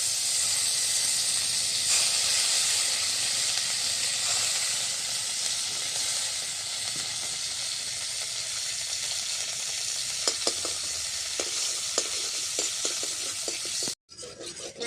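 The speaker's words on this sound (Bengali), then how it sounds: "এখন মাখনটা জাল করে ঘি তৈরি করে নেব" Butter melting down into ghee in a hot pan gives a continuous loud hiss and sizzle, steady for most of the stretch, with light scraping stirs late on before a sudden brief cutoff.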